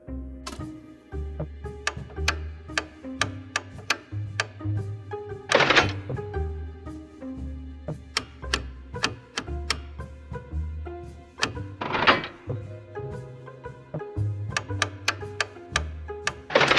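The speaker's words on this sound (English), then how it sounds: "drag to the right until you hear a clunk, then switch directions." A safe's lock dial in the video game Frequency Missing: repeated mechanical ticks and clicks, broken up by a few heavier clunks, over soft background music with no talking.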